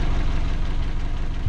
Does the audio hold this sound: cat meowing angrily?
no